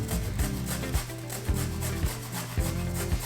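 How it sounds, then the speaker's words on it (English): A small zester rasps across a lime's peel in quick strokes, a close scratchy rubbing repeated roughly every half second. "I like to just take a little zester like this"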